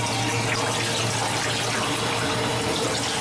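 Continuous rushing water from a screw press dewatering and pre-thickening stillage through a 500 micron screen, steady and loud with a constant machine hum underneath.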